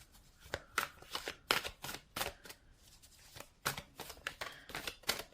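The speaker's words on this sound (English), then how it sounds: "Let's just give this a bit of a shuffle again." Deck of Millennial Tarot cards being shuffled by hand, a series of quick riffling bursts in rapid succession, close and crisp with brief pauses between them.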